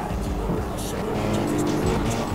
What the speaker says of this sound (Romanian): Stai să las mașina să prinde viteză ca lumea